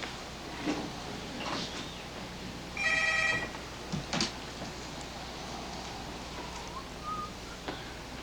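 A telephone gives one short electronic ring in an otherwise quiet room, with faint scattered background noises.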